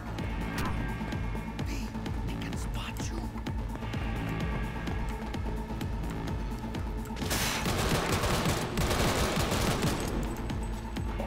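Rapid gunfire from a weapon in the video game Cyberpunk 2077 rattles in dense, steady bursts over a busy game soundscape, growing louder and harsher after about seven seconds.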